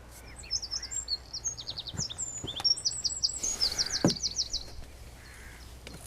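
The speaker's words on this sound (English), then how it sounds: "Bird life, phenomenal." Birds chirp and sing beside a fishing lake, with a dense mix of rapid tweets and trills, some crow-like calls, and a few sharp knocks in an otherwise quiet outdoor setting.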